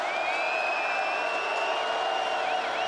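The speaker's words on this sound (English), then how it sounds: "this big Cal crowd trying to generate some noise at the beautiful ballpark by the Bay" Big Cal football crowd roaring steadily at a bayside ballpark during the 2008 Emerald Bowl against Miami, a dense continuous wash of fan noise with whistles and shouts threaded through it.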